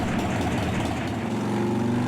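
A cold S&S Cycle motorcycle engine idling with a steady, low, throbbing rumble, close and continuous without pauses.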